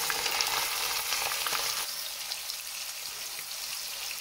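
Loud, steady sizzling of veal searing in a hot pan, dense and close, easing slightly after the first couple of seconds.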